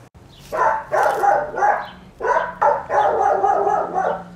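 Several dogs bark in overlapping bursts, loud and close, with a run of rapid yaps toward the end and no talking.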